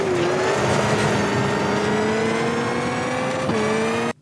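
Rally car engine in the Richard Burns Rally game held under throttle, a loud steady droning rev with a slowly rising pitch and a brief shift near the end before it cuts off abruptly.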